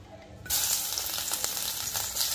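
Urad dal, mustard seeds and cumin hit hot oil with a sudden bright sizzle that then holds as a steady, close, crackling hiss with small pops.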